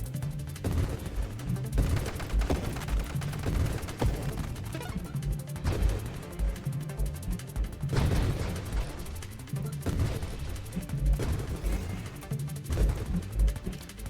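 Repeated grenade weapon blasts in the space shooter Nova Drift, rapid thumping and crackling bursts over a pulsing game music beat, dense and continuous.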